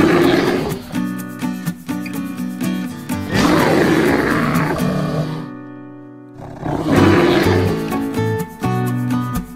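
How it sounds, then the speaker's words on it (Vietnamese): A brown bear gives deep, loud roars in long, growling bursts with a short pause between them, heard alone and up close. "Con gấu nâu."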